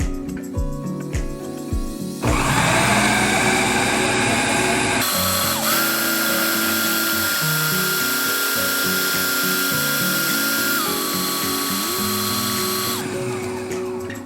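A blender runs on pumpkin pie pudding, starting after a few knocks with a loud steady whir that shifts pitch partway through, then continues evenly and close before cutting back near the end.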